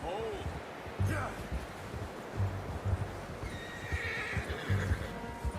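A horse in the Red Dead Redemption 2 video game whinnies near the start while hooves clop in an uneven rhythm beneath, with someone talking over the sounds.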